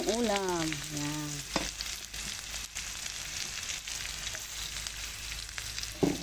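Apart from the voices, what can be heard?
onion frying with browned garlic in a pan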